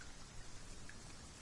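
Steady rain falling across the countryside in Dragon's Dogma 2, an even, continuous hiss of drops with no voices, holding at a moderate level throughout.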